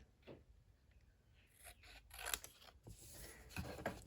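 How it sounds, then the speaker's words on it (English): Scissors snip through a strip of paper during a craft project, several short close cuts with rustling paper handled between them, quiet and without talk. "we're going to just cut out this longer piece"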